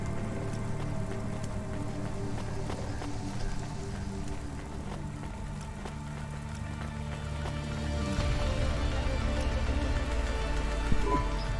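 Steady rain falls in a wet neon city street in the Cloudpunk video game, a dense continuous hiss with low rumble underneath that grows slightly heavier near the end, with no voices.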